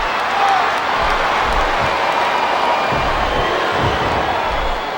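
A wrestling arena crowd cheers and applauds in a steady, dense roar that fills the space and holds level throughout, with occasional low thumps from the ring beneath the noise.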